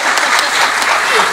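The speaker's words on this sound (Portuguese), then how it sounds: "A salva de palmas." Loud, dense applause fills the hall at a national choir festival concert in Goiânia, a continuous wash of many hands clapping at once throughout the short moment.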